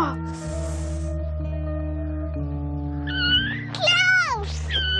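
A kitten meows in a high, wavering cry near the end, rising over a sustained musical score and a brief gasp, with voices nearby.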